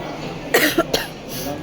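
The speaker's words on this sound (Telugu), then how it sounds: "జలుబు చేసేసింది తగ్గు వచ్చేసింది" A person with a cold coughs in three short, sharp bursts close to the mic, then quiet follows, on a shopping trip around Madina market in Hyderabad.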